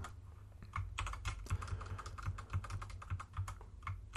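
Fingers type rapidly on a computer keyboard in a steady stream of close, soft key clicks with irregular rhythm, with no voice over them.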